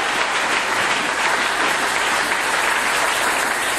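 A church congregation breaks into loud, sustained applause, dense and steady clapping that fills the room without a break.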